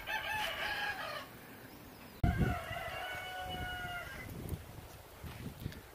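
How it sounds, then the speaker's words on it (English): A rooster crows twice nearby, long drawn-out calls one after another, with a thump and some faint background noise between them. "That rooster."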